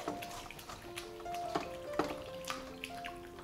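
Plain water poured over kalakand ingredients sitting in a sieve to wash them, a steady splashing trickle with light clinks, close by and moderately quiet.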